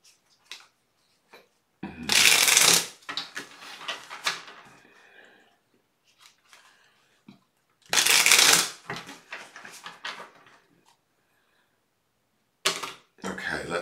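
Tarot cards are riffled in two loud bursts, each a crisp fluttering rush, followed by softer shuffling rustles and a third short riffle at the end.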